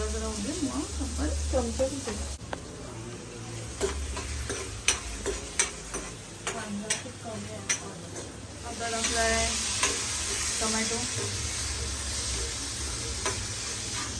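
Maggi noodles cooking in a pan give a continuous sizzle with repeated clicks and taps of stirring, under nearby voices and crowd chatter at a gathering.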